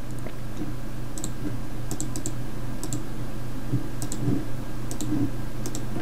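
Soft computer mouse clicks while drawing a flower pattern without a tablet, scattered light ticks over a steady room hum, no talking.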